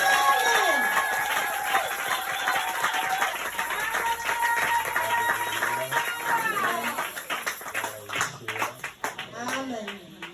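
A church congregation claps and cheers in welcome, a dense burst of hands and voices that thins and becomes more scattered toward the end, with talking mixed through it.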